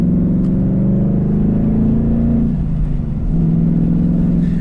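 A manual Ford Roush Mustang's powerful engine revs loudly and continuously up close, its deep growl shifting pitch as the throttle rises and eases.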